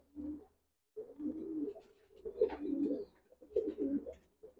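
Racing pigeons destined for a derby cooing close by in soft, throaty bursts, three or four rolling coos separated by brief pauses, with no talk over them.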